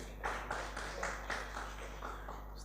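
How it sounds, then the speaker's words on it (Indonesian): Congregation in a church clapping hands in a steady rhythm, about two claps per second, faint and somewhat distant over a constant low hum. "Yang percaya tepuk tangan buat Tuhan kita."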